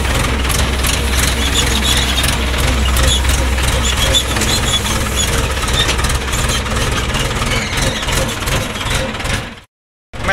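A tractor engine runs steadily close by on a farm, a loud continuous low rumble and chug that cuts out abruptly near the end before briefly resuming.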